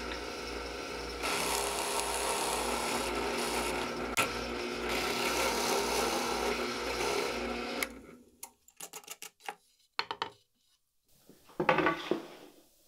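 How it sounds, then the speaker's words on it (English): A drill press whirs loudly for several seconds as it bores into wood, then stops, followed by a few scattered knocks and scraping sounds. "use my drill press to make a shallow hole in each part."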